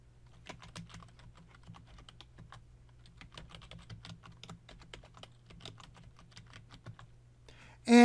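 Rapid, irregular keystrokes on a computer keyboard as the lspci command is typed, close and clear, running steadily for about seven seconds before a louder burst at the end.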